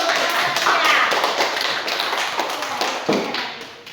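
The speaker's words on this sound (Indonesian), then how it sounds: "Ya, tepuk tangan dulu." Students in a classroom clap their hands together, a loud burst of close, uneven claps that thins out over a few seconds, with voices mixed in.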